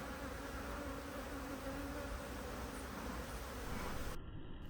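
Honey bees buzz steadily at a hive in the UK, a dense, continuous drone holding level throughout with no talk, then cutting to a thinner hiss near the end.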